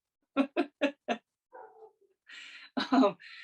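Four loud, steady hand-drum beats are followed by a dog's faint, brief whine, then a voice sings or talks near the end.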